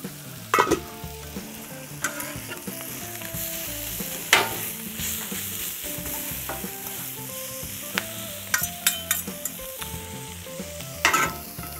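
Food frying crisply on a Camp Chef Explorer outdoor stove at medium heat, a steady close sizzle with occasional scraping and stirring clicks, no talking.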